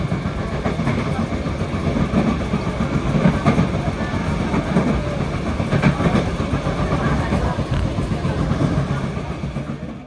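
Commuter train on the Sidoarjo–Bojonegoro line standing at Lamongan station, a steady loud rumble and rattle of rail cars with faint clacking, continuous throughout.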